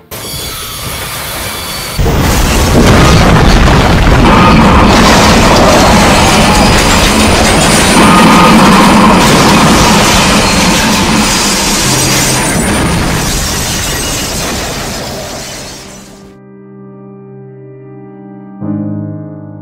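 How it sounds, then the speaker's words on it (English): A runaway freight train at Cajon Pass crashes and derails: a loud, heavy rumble and clatter roars for many seconds, swells, then cuts off abruptly and leaves a few quiet tonal ringing sounds. "The runaway train finally comes to a stop and derails at 7:36 a.m."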